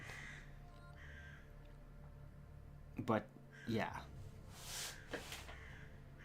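Crows caw loudly outdoors, giving two harsh calls in quick succession and then a couple of fainter, higher caws, while a person speaks briefly over a low background hum.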